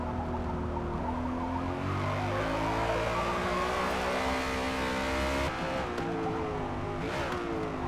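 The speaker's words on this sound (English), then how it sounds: "this BMW isn't on race tires, it's actually on sport tires, and really still doing fantastic through these turns." A BMW race car on sport tires screams through turns in the Forza Motorsport video game, its engine rising and shifting pitch through gear changes. Faint tire squeal and skidding run under the loud, continuous engine note.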